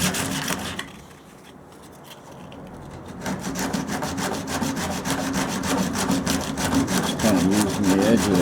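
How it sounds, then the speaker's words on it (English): Sandpaper edge used like a saw, rasping back and forth to open a gap in the center section of a 1929 Chrysler hood; close, steady rhythmic scraping strokes, quieter at first, then faster and louder. "Using the edge of that sandpaper like a saw"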